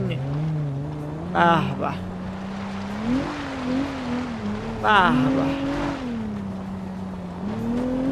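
A car in a racing video game drives with a droning engine that rises and falls, with short bursts of tire squeal. Voices talk over the engine noise throughout.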